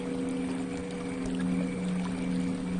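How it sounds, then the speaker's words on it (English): Continuous water sound with a steady, sustained gong-like tone humming underneath, played as a meditative soundscape; moderately loud and even throughout, no voices. "you can hear the sound of the water, and there is a background sound of a gong"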